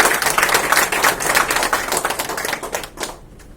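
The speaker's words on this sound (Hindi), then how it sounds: "उसके लिए हम सब मिलके एक बार जोरदार उनके लिए तालियां हो जाए" Office colleagues give a hearty round of applause for a retiring coworker, dense close clapping that stays loud and then thins out and fades near the end.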